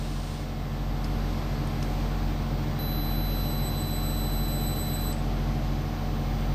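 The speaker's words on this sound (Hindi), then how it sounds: "F013 का अलार्म आ चुका है।" A VFD AC drive sounds its F013 fault alarm as a thin, high electronic tone that switches on midway and holds for a couple of seconds, over a constant low hum of running motor machinery.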